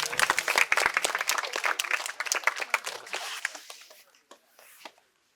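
Audience applause for a quiz prize winner at a medical college, a dense burst of many hands clapping that thins out and fades to a few scattered claps near the end.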